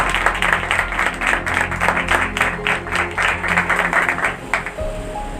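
A church congregation at a Good Friday service applauding, dense, loud, sustained clapping from many hands with a low hum underneath, fading slightly at the end.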